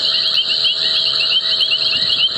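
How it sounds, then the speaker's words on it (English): Red-backed toads calling on a safari drive at Djuma Game Reserve, a steady, dense chorus of rapid repeated trilling notes held without a break, with other insects or frogs faintly underneath. "in the background you hear this wah, wah, wah, wah, wah, wah, the red-backed toad"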